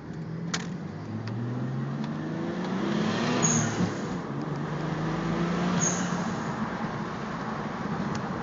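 A Mitsubishi 3000GT VR4 with an HKS exhaust accelerates on the road, its engine note climbing steadily under a continuous cabin rumble, with a couple of brief high whistles from the turbo side.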